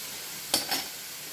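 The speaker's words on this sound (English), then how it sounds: "So I put 2 cloves of garlic in there. We're just going to let that saute." Two garlic cloves saute in a pan for shrimp creole, a low steady sizzle broken by two quick scraping stirs close together midway.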